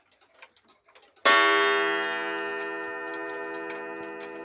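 A loud 1970s Rollens clock ticks steadily in a quick, light rhythm before its coiled gong strikes once, a rich, ringing chime that sustains and slowly fades while the faint ticking continues beneath.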